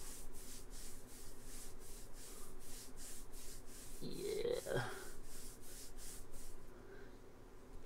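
Fingernails scratching across skin in a steady, rhythmic rasping stroke, close and soft, repeating about twice per second, with a brief breathy sound midway.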